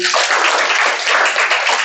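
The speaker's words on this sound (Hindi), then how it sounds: "आप सभी अपने लिए भी एक बार तालियां बजा लीजिए।" Nursing entrance exam coaching students in a classroom clap for themselves, a loud, dense burst of group clapping lasting under two seconds.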